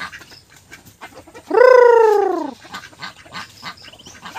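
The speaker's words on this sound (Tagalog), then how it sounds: "Ito na yung mga pato." Ducks at feeding time give one loud, close, drawn-out quack over faint background chatter and rustling.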